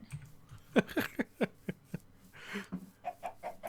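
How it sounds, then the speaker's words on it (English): A Minecraft chicken gives a run of short, quick clucks in a rhythmic burst, followed by a few softer clucks, fairly faint and with no talking over them. "Hello, chicken. Goodbye, chicken."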